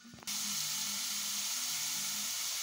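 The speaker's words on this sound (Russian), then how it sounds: "То есть наше мясо обжаривается" Meat searing in a pan for goulash gives a steady, close sizzle that starts abruptly after a short clunk and keeps a bright, even hiss throughout.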